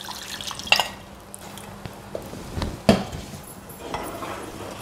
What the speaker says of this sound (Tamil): இப்போ இந்த மிக்சி ஜாரில் கொஞ்சம் தண்ணியை ஊற்றி கழுவி அதில் சேர்த்துக்கலாங்க.